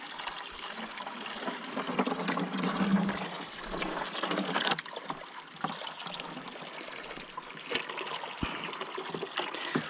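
Continuous splashing trickle of water from a Little Giant 1/3 hp submersible pump filling a 32-gallon trash can, steady and close, with occasional small knocks.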